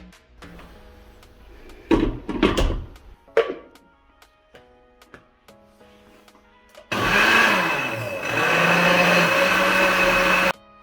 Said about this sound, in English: Let's move on to blending it up.